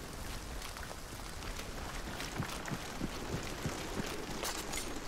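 Steady rainfall in a video game, a soft continuous hiss with scattered drop patters and a few light ticks, faint and even throughout with no voices.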